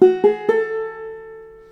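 Three quick plucked clawhammer banjo notes ring out in a short Galax lick, then the strings sustain and fade slowly; no talking.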